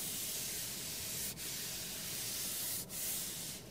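A hand rubs the leather-wrapped steering wheel of a Lexus LBX in a continuous close, soft friction hiss, with two brief pauses as the stroke changes direction.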